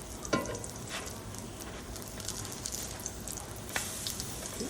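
Zucchini pancakes sizzle steadily in hot oil in a pan just after being flipped, a continuous close crackle with a couple of brief clinks from a utensil.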